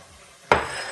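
A spoon clinks and scrapes once against a small bowl while chopped onions are mixed with coriander, a single sharp knock followed by a soft, continuing rustle of stirring close by.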